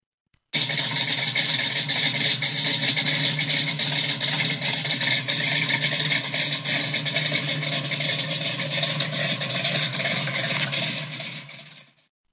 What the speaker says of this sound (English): Enjoy the easy listening sounds of a 426 Hemi.